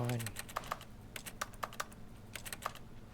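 Rapid computer keyboard and mouse clicks while playing The Stanley Parable, a quick series of close, sharp taps in uneven bursts with a voice briefly heard at the start.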